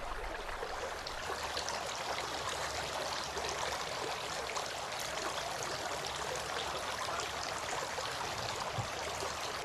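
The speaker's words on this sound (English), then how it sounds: "Then he sniffed water into his nostrils using his right hand and blew out using his left hand 3 times." Tap water runs steadily during Islamic ablution while the nose is rinsed, a constant close splashing stream with no pauses and no voices.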